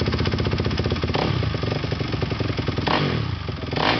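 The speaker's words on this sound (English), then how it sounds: "this is the 2005 crf250r. Just had my motor rebuilt, so here's another video to hear the difference" Rebuilt 2005 Honda CRF250R dirt bike engine, ported and polished with an aftermarket cam, runs close and loud with a rapid barking idle and blips of throttle, alone without talk.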